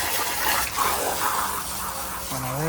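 Water splashes and runs while a Kankrej cow is washed, a continuous broad gush at close range that ends with a brief tonal sound.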